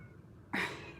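A loud cat gives one drawn-out meow, close and clear, with no talk over it.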